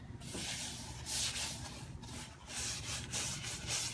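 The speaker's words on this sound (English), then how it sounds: "I'm taking this paint and I'm kind of really pushing it into the base coat" A brush scrubs paint into a base coat on furniture, a close, steady rough rubbing hiss with rhythmic back-and-forth strokes and no talk.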